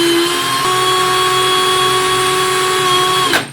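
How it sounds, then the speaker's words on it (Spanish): An electric drill whirs steadily at close range with a loud, constant high-pitched motor tone, then spins down abruptly at the end. "vamos a accionar el interruptor del taladro"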